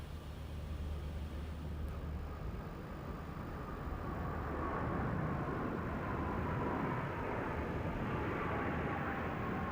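Jet aircraft of a formation flying display pulling up into a loop at the RIAT 2002 air show, a steady broad engine roar that swells slightly midway and holds loud throughout.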